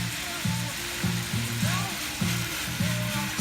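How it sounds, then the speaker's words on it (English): Thinly sliced meat sizzles in a frying pan, a soft steady crackle broken by a run of rhythmic clattering bursts, likely a utensil working the pan, repeating about every half second. "Spread the meat out in the pan."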